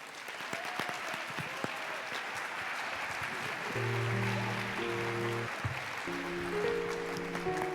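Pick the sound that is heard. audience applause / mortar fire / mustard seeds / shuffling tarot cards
audience applause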